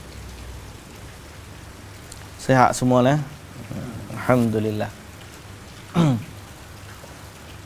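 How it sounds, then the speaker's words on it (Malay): Morning rain falls as a steady, soft hiss throughout, with someone speaking in short phrases over it. "Sini pun hujan ni, pagi-pagi hujan rahmat."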